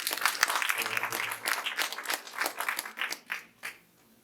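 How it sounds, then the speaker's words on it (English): An audience applauds past leaders at an office inauguration programme, a burst of scattered hand claps that thins out and fades to a few last claps. "let us give them also a hand of applause"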